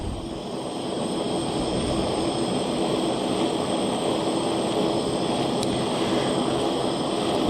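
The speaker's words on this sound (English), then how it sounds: "We'll solder the whole joint up together." A soldering torch heats a joint on a handmade copper circle-link ring, giving a steady, continuous roaring hiss that holds at an even level throughout.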